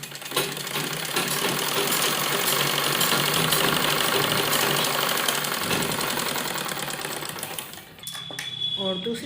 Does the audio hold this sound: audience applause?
no